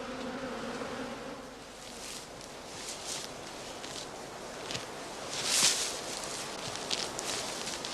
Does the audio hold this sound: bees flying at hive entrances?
yes